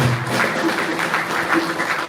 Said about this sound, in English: Please join hands and clap and tell thank you to all the partners that will make this happen.